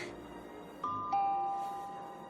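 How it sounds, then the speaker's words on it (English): A two-tone doorbell chime rings out clearly, a bright ding followed by a lower dong that lingers and fades over a quiet room hum. "Isn't that the doorbell?"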